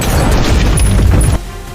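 A booby trap detonating in an action film, a loud low boom with crashing debris that rumbles for over a second and then cuts to a quieter tail.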